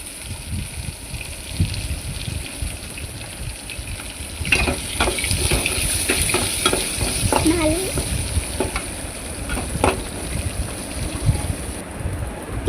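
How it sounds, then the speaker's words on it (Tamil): Chana dal, onion and curry leaves sizzle in hot oil as a tempering for a vegetable poriyal, a steady close frying hiss with scattered crackles and spoon scrapes, growing busier after a few seconds. "வெங்காயம் கருவேப்பிலையும் போட்டுட்டு நல்லா தாளித்து விட்டுக்கணும்."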